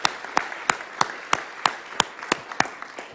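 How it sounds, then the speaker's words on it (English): An audience applauds a panel after a climate change briefing, a broad wash of clapping with strong, regular individual claps standing out near the microphone. "Let's give another round of applause for our panel."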